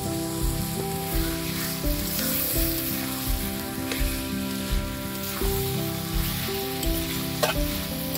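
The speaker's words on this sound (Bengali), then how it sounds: "মাংসটা কষা হয়ে গেছে, এবার আমি ধনেপাতা দেব" Mutton with coriander leaves sizzling steadily in a pan while being stirred, a loud, continuous close-up frying hiss with occasional scrapes and a constant low hum beneath.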